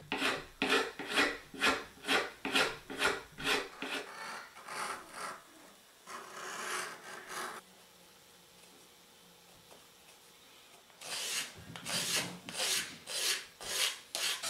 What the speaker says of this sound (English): I decided to use some sandpaper to give it more grip and texture.